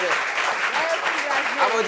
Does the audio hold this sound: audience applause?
yes